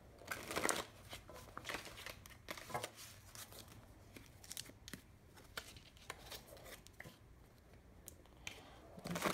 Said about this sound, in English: So let's just give a few shuffles of that.